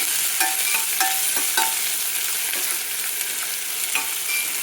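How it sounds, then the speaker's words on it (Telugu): Chopped onions fry in a pan of tempering oil, giving a steady, close sizzle broken by light clinks and scrapes of stirring, with no voices. "ఈ ఉల్లిపాయ మంచిగా ఫ్రై కావాలి."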